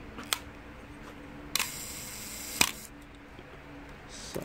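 Pentax K1000 film camera shutter fired at one second: a crisp opening clack, a second of faint whirring hold, then a sharp closing snap, close and isolated, with a small tick just before and light handling noise after.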